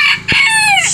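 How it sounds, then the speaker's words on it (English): A farm rooster lets out a single loud, close crow, bright and piercing, lasting under a second. "Shut up, you stupid rooster."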